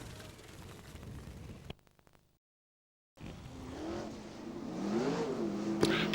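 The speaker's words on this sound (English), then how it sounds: "the cars lining up in rows of two, going up the back straight behind our Saturday night pace car." V8 dirt modified race cars rumble in the distance while lining up in pairs behind a pace car, a low engine drone that briefly drops out and then swells back louder with revving.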